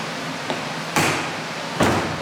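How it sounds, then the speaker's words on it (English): A pickup truck's doors are shut one after the other: a light tap, then two loud, close slams spaced under a second apart, with a steady hiss of background noise between them. "we'll shut this door on it, and then we'll shut the other door"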